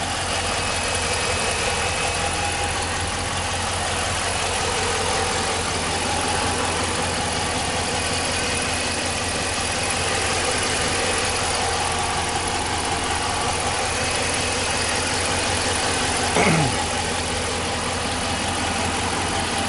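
A 2015 RAM 1500 SLT Big Horn's 5.7 liter V8 idles steadily and loudly up close, a constant low rumble with a faint brief chirp near the end.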